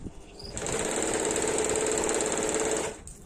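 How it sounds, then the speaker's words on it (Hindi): A sewing machine stitching a fabric strip over an open edge of a kurti runs in one close, steady whirring burst of about two and a half seconds, starting and stopping cleanly. "अब ये जो खुला हुआ हिस्सा है इसके ऊपर ये पट्टी रख के सिलाई कर लेंगे।"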